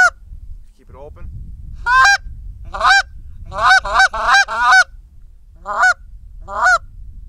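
Repeated loud goose honks made on a goose call, about nine calls in uneven bursts, some in quick pairs, close and clear with no talking.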